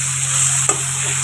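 Bay leaves frying in hot oil, a constant close hiss of sizzling with a single short scrape of a stirring spoon partway through, no voices.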